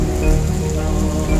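Heavy rain falling steadily around a tent, a loud, close, unbroken hiss of drops drumming on surfaces with no voices.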